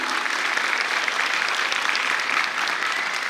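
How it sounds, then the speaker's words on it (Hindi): Loud audience applause at a school annual day celebration, a dense, steady roar of clapping from a large crowd held evenly for several seconds with no talking. "तालियां जोरदार हो जाए एवरीवन."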